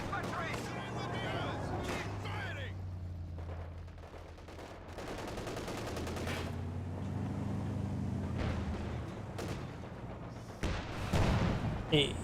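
Gunfire and explosions from a Company of Heroes 2 battle as a T-70 tank takes fire, with a continuous dense barrage of shots, engine rumble and low booms, and a commentator talking over the action throughout.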